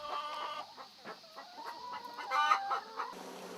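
Farmyard hens, part of a flock of about 200 chickens on a small organic farm with rice paddies, cluck and squawk steadily in a busy, overlapping chorus, with a louder burst of calls near the end.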